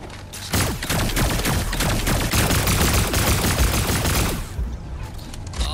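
Rapid automatic gunfire in Fortnite, a continuous loud SMG-like stream of close shots lasting several seconds before tapering off, with no talk over it.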